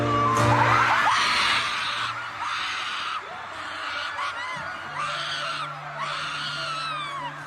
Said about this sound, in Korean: 비명인지 울음인지 구분이 안 될 정도의 소리가 터져 나왔는데요.